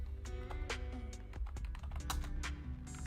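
Computer keyboard typing, a quick irregular run of close, crisp key clicks heard alone with no voices.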